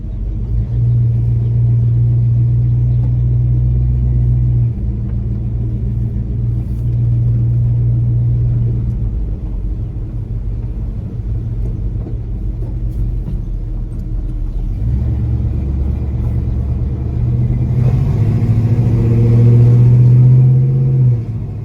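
1970 Pontiac LeMans with new dual exhaust and imitation Flowmasters on a test drive, a loud, close, deep rumbling drone that steadies, dips as gears change, then swells into a stronger acceleration near the end.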